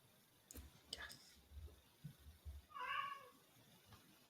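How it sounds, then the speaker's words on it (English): A house cat meows once, up close and fairly clear, among faint clicks and light background noise in a quiet indoor room. "Would you stop meowing, weird ass cat?"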